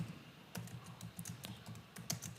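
Someone types a name on a computer keyboard, a soft run of close, uneven key clicks at a steady typing pace against a quiet background.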